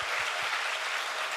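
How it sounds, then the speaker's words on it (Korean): Parents and guests at a school admissions information session applaud to encourage 5th and 6th grade students. The clapping is steady and fairly dense, with a few low thumps at the start. "우리 한번 이 친구들에게 격려의 박수를 한번 했으면 좋겠습니다."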